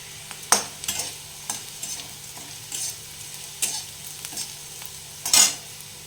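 Two bay leaves dropped into hot oil for a Bengali biulir dal, giving a soft, close sizzle punctuated by several sharp spatters and pops, with no voices.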